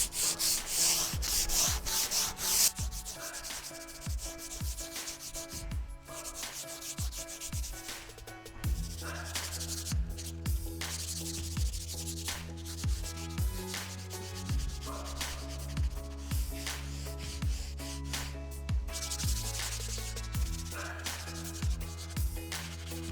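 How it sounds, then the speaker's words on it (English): Steady, close sanding of old finish off a wooden nightstand, a continuous gritty rubbing with rhythmic back-and-forth strokes and a lower power-sander hum running under it, with no talking. "But if my sanding is not taking off the finish"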